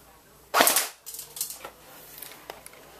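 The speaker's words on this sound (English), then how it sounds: "I will do a couple more shots just to confirm that FPS with y'all." An AGM M14 airsoft rifle, freshly regreased, shimmed and fitted with a new piston, fires a sharp nearby test shot followed by a few quieter mechanical clicks and rattles.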